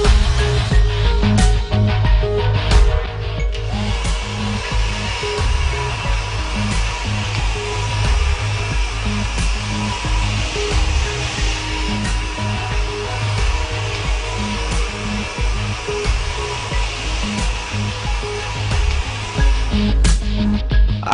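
A hair dryer blow-dries hair after a hyaluronic acid and açaí restructuring treatment. Its loud, continuous roar runs close and unbroken from start to finish.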